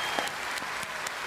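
Concert audience applauding after a performance, a brief burst of steady clapping heard from a distance and fairly faint.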